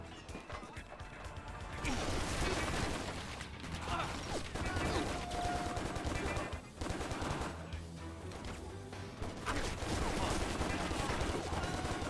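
Assault rifle fire in the action shooter Stranglehold, sustained and loud with crashing impacts and rapid bursts across the whole span, dense game combat noise throughout.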